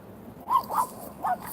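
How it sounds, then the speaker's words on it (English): Small dogs give three short, high yips and barks, near and fairly loud, within about a second. "Here my little dogs."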